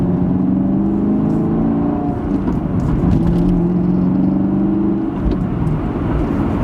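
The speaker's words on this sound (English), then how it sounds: "Just going into this sharp corner here, we're gonna hit the brake. Auto rev match." A 2016 Chevrolet Camaro SS 2SS V8 engine heard from inside the cabin while braking into a sharp corner, a loud steady low drone with a brief rise in revs as the transmission auto rev-matches on the downshift.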